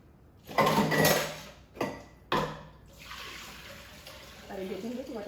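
Grains being rinsed in a pot of water before cooking, with splashing swirls and sloshing bursts, a clunk of the vessel, then quieter trickling and faint water movement.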